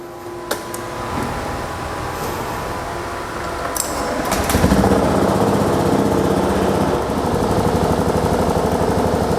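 A car engine is cranked and starts, then runs at a steady, loud idle during a fuel pressure check after a fuel pressure gauge is fitted in a workshop.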